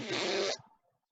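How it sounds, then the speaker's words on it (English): A single fart sound effect, a loud buzzy blast of about half a second that cuts off and trails into quiet. "Another fart sound."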